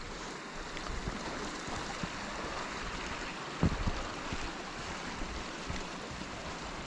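River water flowing steadily as bikes cross a river at Gunnerside Gill, a broad continuous rush with a few faint splashes and thuds, no voices.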